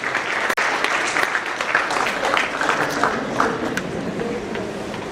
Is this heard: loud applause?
yes